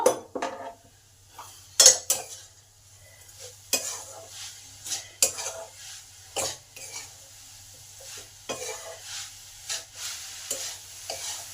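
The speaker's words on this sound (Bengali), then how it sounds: "গুড়টাকে নারকেলের সঙ্গে ভালো করে মিশিয়ে নেব নারকেলটা এখানে ছাই মেরে নেব" Grated coconut and jaggery are stirred together in a pan over medium heat, a spoon scraping the pan in repeated close strokes with a faint sizzle between them.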